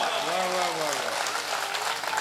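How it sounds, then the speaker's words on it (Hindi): A crowd applauding at an Indian poetry mushaira, a steady wash of clapping filling the whole moment while a voice briefly sings or speaks at the start. "एक बार जोरदार तालियां बजा"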